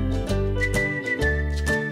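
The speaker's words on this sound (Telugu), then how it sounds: "ఇప్పుడు కుక్కర్ మూత పెట్టేసి 10 విజిల్స్ వచ్చేంత వరకు" A pressure cooker steam whistle blows loud and close while mutton keema cooks inside, giving a shrill tone that pulses in quick bursts with no speech.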